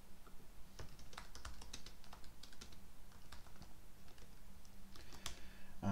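Rapid, uneven keystrokes on a computer keyboard as Common Lisp code is typed, a steady run of close clicks and taps with no talking, ending in a slightly heavier key press.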